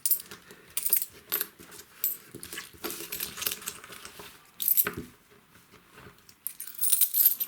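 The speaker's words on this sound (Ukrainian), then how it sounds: "Ставимо баночку, собираємо монети." Coins gathered by hand into a small jar, scattered metallic clinks and light rattling in irregular bursts with quiet gaps between, close but soft, no voices.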